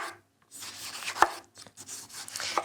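A knife slices thinly through a ripe tomato on a cutting board, making several quiet, close cuts and soft board taps with brief pauses between strokes.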